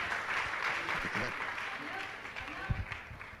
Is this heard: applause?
yes